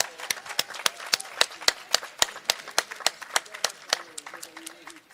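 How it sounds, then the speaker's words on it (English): Sparse clapping from a small audience at a city award ceremony for small businesses, about twenty distinct, steady claps over a few seconds, with a voice briefly under the end. "Let's give you all a big round of applause."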